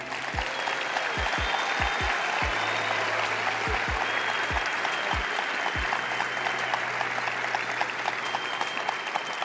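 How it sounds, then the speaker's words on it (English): A large audience applauds at a motivational talk, a dense, steady wash of clapping heard from some distance, fairly quiet, while low booming thumps break in now and then. "I want everybody to clap it up for these people to encourage them."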